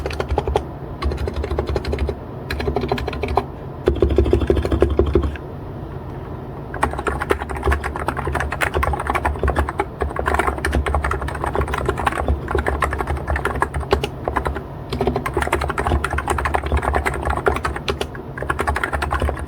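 Typing on a Cox Endeavor capacitive keyboard, a dense run of quick, close key presses with brief pauses, a low hum beneath and no talking.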